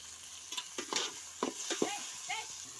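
Tomatoes with curry leaves fry gently in a pan as a spoon stirs and scrapes, with soft sizzling under a few sharp clinks and scrapes spaced irregularly, faint and close.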